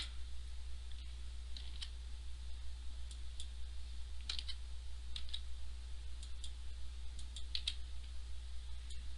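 Keys click on a computer keyboard in short, scattered bursts of light, crisp taps over a steady low hum. The taps are faint and no one speaks.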